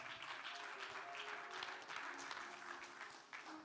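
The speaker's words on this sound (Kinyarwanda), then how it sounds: "dukomere Yesu amashyi menshi cyane." Faint, distant applause from a church congregation, a steady patter of clapping lasting a few seconds.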